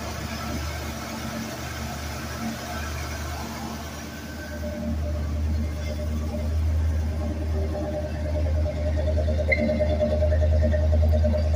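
A 1973 Buick Centurion engine idles after a cold start, a steady low rumble that evens out and grows slightly louder over the span, heard nearby without talk.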